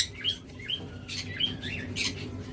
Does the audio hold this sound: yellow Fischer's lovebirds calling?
yes